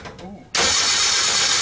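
A 1964-65 Ford Econoline van engine cranks briefly, then catches and roars to life, settling into a loud, steady running sound after a quiet, uneven start.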